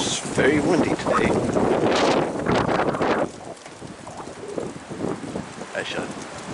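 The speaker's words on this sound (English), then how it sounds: "It's very windy today." Strong gusting wind buffets an outdoor microphone on a windy day, a loud continuous rumbling roar for the first half that eases into lighter, choppy gusts, with faint birds calling in the background.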